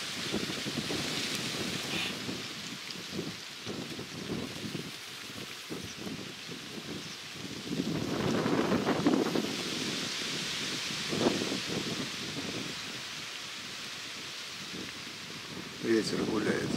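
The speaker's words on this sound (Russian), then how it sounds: "ветер гуляет на просторах" Wind sweeps across the open flowering steppe near the Volga cliffs in the Saratov region, a continuous hissing rush that swells in gusts around a person's voice.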